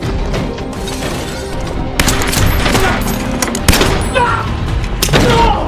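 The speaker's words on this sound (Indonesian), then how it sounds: "sehingga baku tembak pun kembali terjadi" Gunfire shootout from the action film Code of Honor, a loud, sustained exchange of close shots and rapid bursts with sharp cracks and booming hits scattered throughout, dense and continuous from start to finish.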